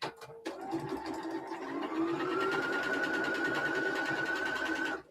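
Sewing machine stitching a crown quilt block, a steady, close, continuous whirring hum that starts after a brief pause and runs evenly for several seconds before stopping, with no talk over it.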